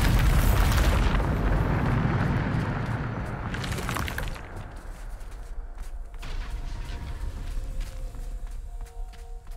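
A spell explosion in the video game Hogwarts Legacy erupts in a loud, booming blast, followed by a second burst near the four-second mark. Rumbling debris and scattered footsteps trail off afterward into quieter ambience.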